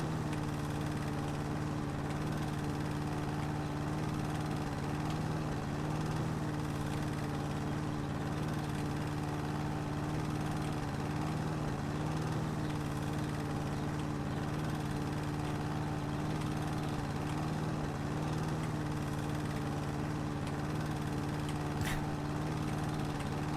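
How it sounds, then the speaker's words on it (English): Lawnmower engine in the House Flipper video game, a steady droning hum that runs unbroken and fairly quiet throughout, with no talking over it. "Too bad that the hitbox is so huge on this lawnmower."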